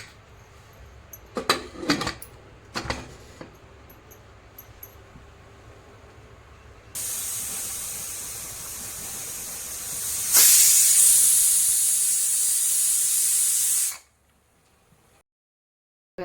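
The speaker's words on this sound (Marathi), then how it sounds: "आता आपल्याला कुकरचं झाकण लावून तीन शिट्ट्या घ्यायच्या आहे" A few knocks and clatters, then a pressure cooker of chicken khichdi starts hissing steam that swells into a loud, sharp whistling jet for several seconds before cutting off abruptly.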